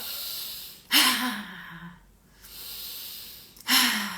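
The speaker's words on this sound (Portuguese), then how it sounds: "Solta a respiração fazendo barulho" Two loud, forceful breaths pushed out audibly through the mouth, each a sharp rush of air with a voiced edge, separated by a quiet pause.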